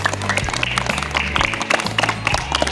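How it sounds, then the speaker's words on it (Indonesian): A class of fourth-grade students clapping their hands together in a classroom, brisk rhythmic clapping with some voices over a low background hum. "Tepuk tangan untuk kita semuanya."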